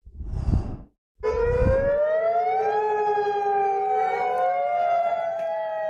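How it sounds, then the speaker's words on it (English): Wailing tsunami warning sirens in Kodiak, Alaska rise and sustain in overlapping, slowly shifting tones, loud and continuous after a couple of brief low rumbles at the start. "sirens were blaring in Kodiak, that's in Alaska, last night to warn of a possible tsunami"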